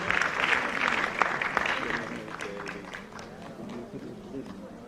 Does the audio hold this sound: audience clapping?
yes